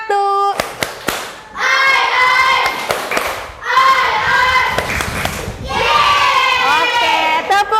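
A primary-school class does a rhythmic 'tepuk semangat' clapping chant, sharp handclaps punctuating bursts of loud children's chanting voices, with a teacher's voice briefly at the start.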